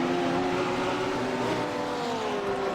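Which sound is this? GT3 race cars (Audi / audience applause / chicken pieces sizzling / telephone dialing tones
GT3 race cars (Audi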